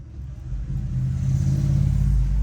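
Road traffic outside an open window rumbles low and steady, swelling slightly as a vehicle seems to pass, with no talking.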